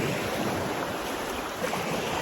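Surf washes steadily onto a secluded beach and bay in Costa Rica, a continuous loud rushing hiss with some wind buffeting the microphone and no voices.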